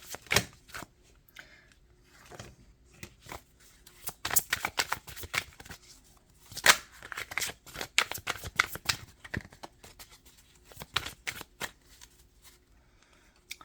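Tarot cards being shuffled by hand, a series of soft riffling and flapping bursts with quiet gaps between, close and alone.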